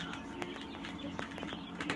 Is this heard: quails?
yes